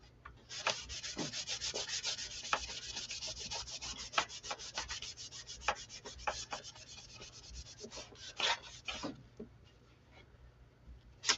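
Wax being rubbed onto the front of a clipboard: a quick, steady run of dry scratchy strokes, close and fairly quiet, slowing and thinning out toward the end, with no talking.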